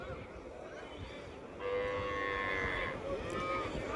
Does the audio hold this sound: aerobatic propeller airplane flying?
no